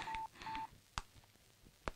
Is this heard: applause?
no